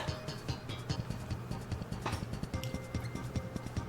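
Horse hooves clip-clop at a steady, quick gait in a video game, a close and even rhythm of thuds over a low background hum.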